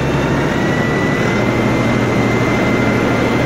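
An LS XR4145C tractor engine held at around 1500 RPM, a loud, steady droning roar with a continuous low rumble and no noticeable change in pitch.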